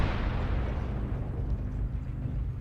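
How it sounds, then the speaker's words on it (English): A missile explosion in the mech combat game MechWarrior Online, a heavy, continuous low rumbling blast that fills the moment loudly and slowly fades without talk. "Warning, incoming missile."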